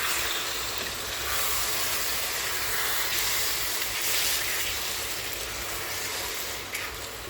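Steady hissing and bubbling of a pot of tomato stew boiling on the stove, a continuous close rush of steam and simmering liquid with no voices.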